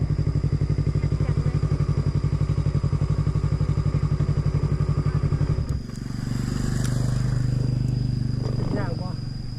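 A Yamaha R3 motorcycle climbing uphill throbs with a loud, rapid, evenly pulsing engine note up close, then shifts to a smoother, lower drone. A voice briefly comes in toward the end.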